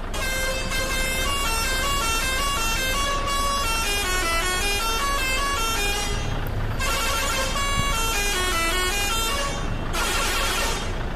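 Second horn option on a Mercedes-Benz OH1626 bus in Bus Simulator Indonesia plays a long, loud musical tune of shifting horn tones in several phrases with brief breaks, over a constant engine drone and no voices.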